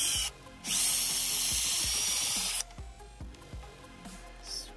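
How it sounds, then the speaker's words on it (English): A loud power drill whines in one long burst for about two seconds, drilling a small hole for an eye hook in a paludarium waterfall, surrounded by brief quieter noises before and after. "Okay, drill a little hole."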